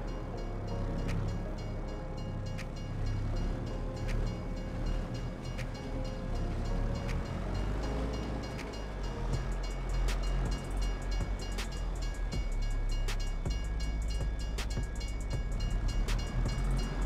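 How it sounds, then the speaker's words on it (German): A train in Farming Simulator 22 on the Alpenfarm map rumbles past with a low rolling roar and steady rail clatter. A horn-like tone rises partway through, and no one speaks. "Ups, jetzt kommt der Zug auch noch."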